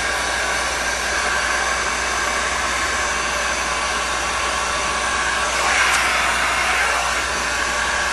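Steady roaring blast of a heat gun aimed at resin geode coasters, continuous and loud at close range with little change, swelling slightly near the end.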